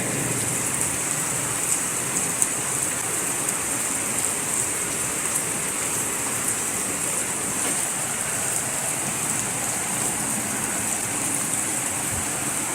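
Steady rain hisses down without a break, a dense even patter on surfaces close by, with no voices.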